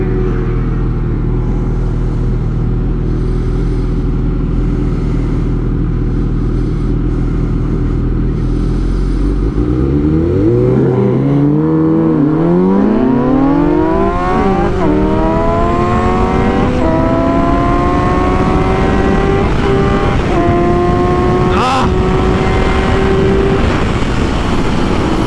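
A Suzuki GSX-S 750 and a Yamaha MT-09 with a stretched exhaust drag race. A steady idle drone gives way to loud, close engines revving hard, their pitch rising through repeated gear changes over about fifteen seconds.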